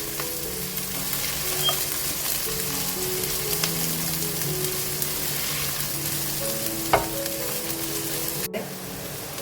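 Onions fry in oil for Lahori-style paya, a steady sizzling hiss with a low hum underneath and occasional clinks of a spoon against the pot.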